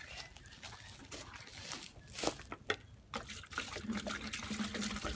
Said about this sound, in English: I'm gonna go ahead and pour in the water now.